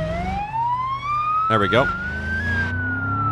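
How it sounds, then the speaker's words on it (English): A police car siren wails in the BeamNG.drive driving game, a rising electronic tone sweeping steadily upward with a brief rapid yelp burst in the middle, over engine hum, while someone speaks briefly. "we're gonna go ahead and activate the siren"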